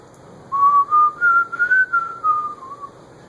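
A person whistles a single sustained, wavering tune in several short connected phrases, clear and close.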